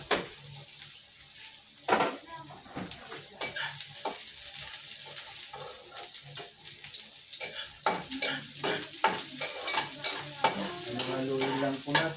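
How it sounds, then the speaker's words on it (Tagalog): Garlic and onion sizzle steadily in a hot pan while a utensil stirs them, with repeated scraping clinks and knocks against the metal, growing busier toward the end, close and fairly loud with no talking. "Haluin lang po natin siya para maluto yung ating bawang."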